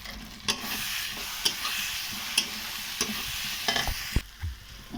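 Meat masala, coriander and black pepper powders sizzle in hot oil in a pan for a chicken curry. The frying hiss is steady and close, broken by sharp scraping clicks from a spoon stirring every second or so. No one talks.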